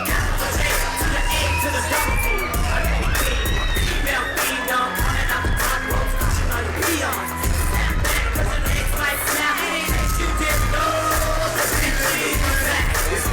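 Loud pro wrestling crowd at a women's main event in Ybor City, roaring with yells, whoops and bangs over a dense wall of noise that never lets up.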